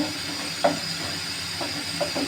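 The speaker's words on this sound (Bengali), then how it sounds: "এখন আমি কোনো রকমে ডিমগুলো ভোনা করবো" Eggs cooking in a pan give a steady, close sizzle and hiss, with a few soft scraping knocks from stirring scattered through it.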